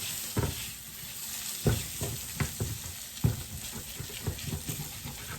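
Flour browning in a hot pan, a steady sizzle and fry punctuated by several sharp scraping stirs of a utensil against the pan, close up and without talk.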